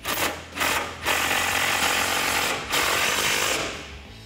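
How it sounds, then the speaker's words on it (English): A ratchet wrench fitted with a 15 mm socket tightens a fog light bolt on a 2017-2019 Super Duty truck, giving several bursts of rapid close clicking separated by short pauses, with no talk. "grab your 15 millimeter socket to tighten it down."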